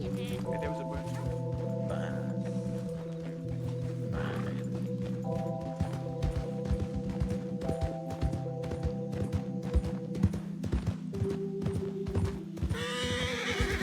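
Steady clip-clop of hooves with occasional horse whinnies during horse riding in a video game, over layered game music, with people talking throughout.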